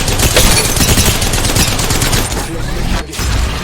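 Video game gunfire rattles in a dense, loud rapid burst of automatic shots, nearly continuous with a short break near the end before firing resumes.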